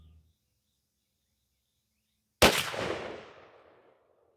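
A Mossberg 835 12-gauge shotgun firing a Fiocchi Golden Turkey 3-inch shell outdoors, one sharp, loud blast after a couple of seconds of silence, trailing off in a long fading echo.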